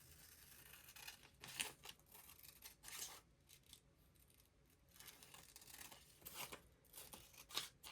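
Scissors snip into old paper ephemera for a junk journal, a few quiet, close crisp cuts with papery crinkles between them, spaced irregularly and with no talk.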